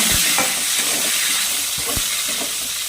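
Potato pieces fry in hot oil with whole cumin and bay leaf, giving a steady loud sizzle. A spatula scrapes and stirs through the pan several times.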